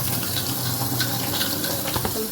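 Tap water runs steadily into a bowl of rice being rinsed in a sink, a continuous close splashing rush with no speech.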